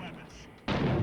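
A single loud, close gunshot lands sharply and rumbles on in the video game Six Days in Fallujah, following a moment of quieter background sound.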